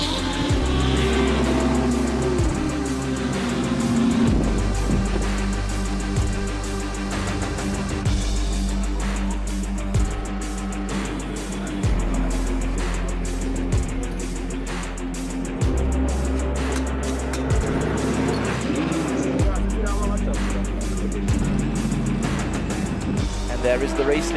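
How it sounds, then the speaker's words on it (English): Race cars lapping the Red Bull Ring in an endurance race: engines roar loud and continuous, with repeated gear shifts and cars passing close, while a commentator talks over the noise throughout. "They are now going to be side by side across the line, but Gallage is prevailing."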